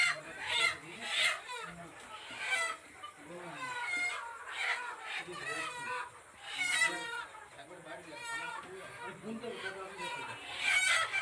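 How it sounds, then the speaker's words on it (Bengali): Farm chickens clucking and squawking in agitated bursts while being caught in a poultry shed, near and continuous, with rustling and a few excited cackles throughout. "আমি মুরগিগুলো ধরছি, তোমরা দেখতে থাকো ভিডিওটা।"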